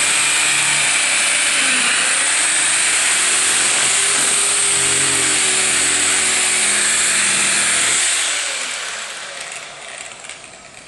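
A power tool sands and polishes an acrylic seam, a steady, loud broadband whirring grind that holds for about eight seconds and then fades away.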